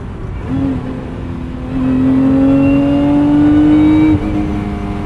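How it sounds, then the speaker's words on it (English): A 2024 Lotus Emira with a six-speed manual revs hard from inside the cabin, its engine note climbing steadily to high RPM and holding loud before dropping off abruptly near the end. "Even in tour mode, engine sounds good at higher RPMs."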